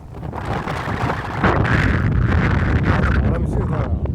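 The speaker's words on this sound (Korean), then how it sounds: "바람이 세다." Strong gale buffets a seaside breakwater during mackerel float fishing amid heavy swell, a loud, continuous roaring rush that strengthens midway and keeps gusting to the end, with no voices.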